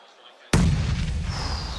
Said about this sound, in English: The nades coming through now.